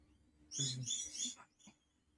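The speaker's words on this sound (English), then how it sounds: "Hope you can't hear that fucking crow going nuts in my front yard." A crow squawks in a front yard: a harsh, loud burst of calls lasting about a second, then one shorter call, set against a quiet background.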